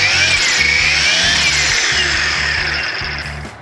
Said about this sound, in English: Now you have the weed eater.